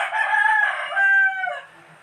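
A rooster crows once, loud and close, a long drawn-out cock-a-doodle-doo from an older gamecock on a farm, heard alone with no talk.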